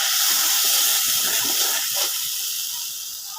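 Coriander and turmeric powder mixed with a little water fries in a pan for a vegetable dish, a steady close sizzling hiss that fades slightly toward the end, with no talking.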